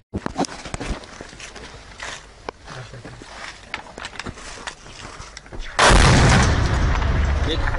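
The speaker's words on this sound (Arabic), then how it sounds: "صوروا لنا احسن تفجير على احلى لحظه" A deliberate explosion in Syria in 2012: scuffling, crackling handling noise and footsteps, then a sudden loud, close boom that rolls on as a sustained roar.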